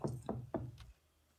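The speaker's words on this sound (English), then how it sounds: "A knock on the door" Three quick, firm knocks on a door followed by a fainter fourth tap, close and dull, ending in silence.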